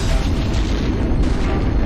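EVE Online space battle weapons fire and explosions, a dense, heavy rumbling boom that is loud and sustained throughout.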